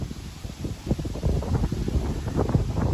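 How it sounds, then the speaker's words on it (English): Wind gusts buffet the microphone on a homestead, a continuous low rumbling roar that swells and surges over three seconds with no other clear sounds. "Windy day today on the homestead."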